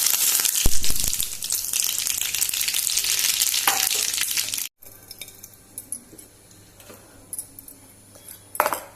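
Ingredients for a chutney tempering hit a spoonful of hot oil, a loud close sizzle that runs for several seconds, then cuts off to quieter clinks and light stirring sounds.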